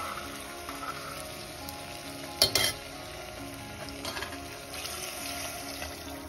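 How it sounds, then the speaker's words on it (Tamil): Tamarind extract goes into a simmering taro (sepa kilangu) kara kulambu curry in a pan, with a steady low sizzle, a brief louder splash and clatter partway through, then quieter stirring. "இப்போ நம்ம அந்த புளிக்கரைசல சேர்த்துடலாம்."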